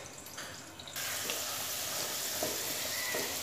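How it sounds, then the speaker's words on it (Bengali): Potato pieces fry in oil in a pan, going from a quieter crackle to a loud, steady sizzle once they are added, close by with occasional sharper pops. "আলুগুলো দিয়ে আলুগুলোকে একটু ঢাকা দিয়ে দেবো, যাতে তাড়াতাড়ি ভাজাটা হয়ে যায়।"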